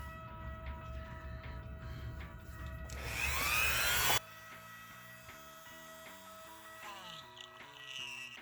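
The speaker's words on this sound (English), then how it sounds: "Your Dremel, of course. We'll start with the round-up barrel bit." A Dremel rotary tool fitted with a round barrel bit grinds into an action figure in one harsh, high-pitched burst of about a second. A faint motor hum and light tapping follow.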